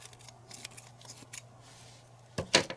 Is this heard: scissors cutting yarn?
yes